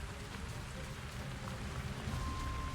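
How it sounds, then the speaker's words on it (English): Steady rain falling during a storm in the Avatar video game, a dense, even wash of patter and hiss heard close and continuous, with faint low rumble beneath. "Lovely rain effects."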